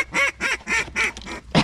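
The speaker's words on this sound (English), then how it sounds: "every time he blows this duck call." A duck call blown by a hunter during the Louisiana duck season opener, giving a close, loud series of five or six rhythmic quacks in quick succession.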